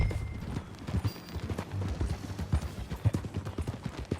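Horse hooves clip-clop steadily in Red Dead Redemption 2, a close, rhythmic trotting patter over a low background hum that stays even for the whole stretch.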